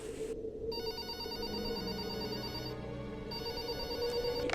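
A telephone rings at an airport air traffic control office, with two bursts of bright electronic trilling separated by a short pause, heard close over a low steady hum.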